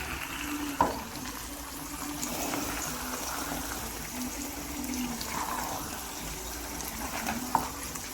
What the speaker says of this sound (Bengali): আর এদিকে রান্না হচ্ছে সালমন ফিশ ফ্রাই আর আলু ভাজা